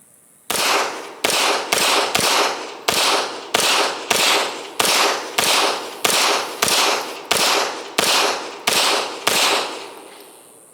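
Rapid series of about seventeen loud, sharp pistol shots from a Beretta 92X Performance fired at an outdoor shooting range, evenly spaced with brief echoing decay after each, no talking.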